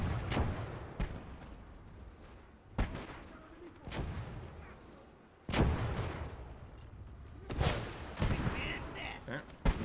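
Mortar and artillery fire in the Gates of Hell war game during an Italian campaign battle, with about eight heavy booming blasts spaced irregularly and echoing between them.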